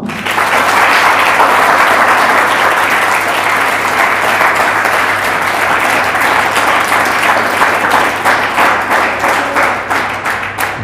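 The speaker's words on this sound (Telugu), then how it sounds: "ఒకసారి బాలాజీ సార్కి గట్టిగా చప్పట్లు కొడదామా?" A student audience at a school guidance event gives Balaji sir loud, sustained applause, a dense wash of many hands clapping together that continues for about ten seconds before thinning toward the end.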